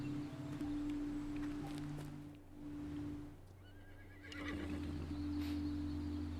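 A horse in the Equinox Homecoming video game whinnies and snorts, with faint hoof clops against a steady low hum and soft rustling, and no voices.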